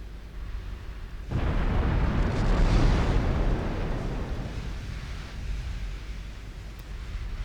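A torpedo detonates against a warship in the naval game Ultimate Admiral Dreadnoughts: a sudden loud broadband blast, then a long rumbling roar that slowly fades into steady low noise, with no voices.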